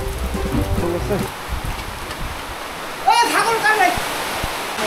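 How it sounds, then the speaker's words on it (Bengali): Heavy rain falling outdoors, a steady broadband wash of downpour that persists throughout, with a voice talking over it near the end. "বাইরে বৃষ্টি হচ্ছে, তুমুল বৃষ্টি।"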